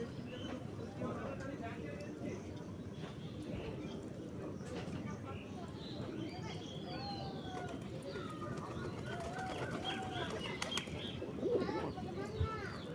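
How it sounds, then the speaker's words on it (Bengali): Pigeons entering their coop cage one by one during rain, with soft cooing and brief wing flaps over a steady background wash that grows slightly busier toward the end. "একে একে পায়রাগুলো খোপে ঢুকে যাচ্ছে সব খাঁচার মধ্যে।"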